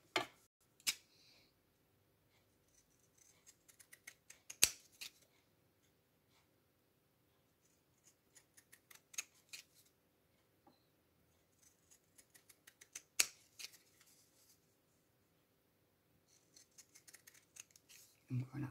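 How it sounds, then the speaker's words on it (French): Scissors notch around the edges of paper to make a stamp shape, giving sparse, quiet, crisp snips in small clusters with pauses between them. "je vais cranter tous les bords pour avoir la forme du timbre"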